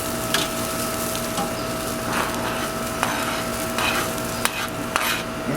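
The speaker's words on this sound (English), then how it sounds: "Now I'm going to throw my peppers and onions in there." Peppers and onions sizzle steadily in a skillet beside smoked Italian sausages, a continuous frying hiss with occasional sharp pops and stirring clicks, fairly close and without talk.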